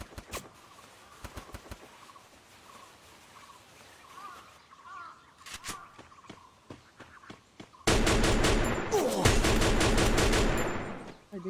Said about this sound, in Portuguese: o da Goraza tá atirando em mim